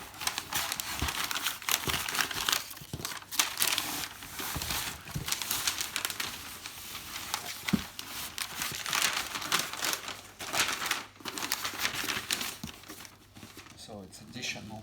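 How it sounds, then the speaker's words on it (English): A parcel being wrapped in postal paper for posting: continuous loud crinkling and rustling of paper with occasional tearing sounds, while someone talks over the handling. "And now put that in a post paper."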